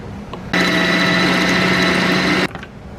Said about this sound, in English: You want to blend real good until the ice it disappear, okay?